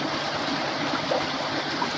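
Water trickles steadily from the outlet of a pump-fed pond filter turned down to a dribble, a close, continuous light splashing and babbling with no talk over it.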